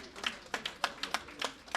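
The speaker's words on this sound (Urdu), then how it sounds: "انجینئر کلیم احمد صاحب کے لیے بہت زوردار تالیاں بجائیے." Audience applause for an engineer at a valedictory programme marking Allama Iqbal's birth anniversary: about eight crisp, evenly spaced claps in a quick, steady rhythm, close and fairly sparse.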